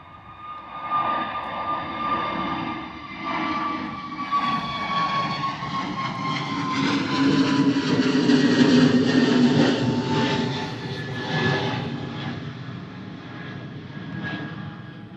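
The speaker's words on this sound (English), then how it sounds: "EasyJ320 Neo off to Skiathos" An easyJet Airbus A320neo jet takes off at Bristol Airport in a gusty crosswind, its engine roar building into a long, steady rumble with whining tones that sweep slowly downward, heard alone from the airfield.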